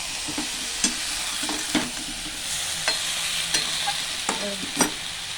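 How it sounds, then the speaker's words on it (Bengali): Young jackfruit frying and being stirred in a pan for a jackfruit and shrimp curry, a steady sizzle broken by repeated sharp scrapes and clatters of a spoon against the pan, close and fairly loud with no voices. "ইঁচড়টা একটু ভাজা ভাজা করে সেদ্ধ করে তো দিয়ে দিলাম।"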